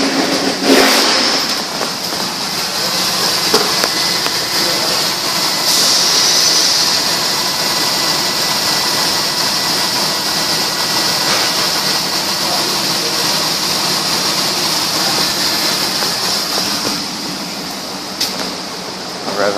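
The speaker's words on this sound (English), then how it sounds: "This is an engine run video." A 2002 Dodge Durango with 120,468 miles runs steadily up close, a loud continuous engine drone with a high whine, swelling slightly as it is revved.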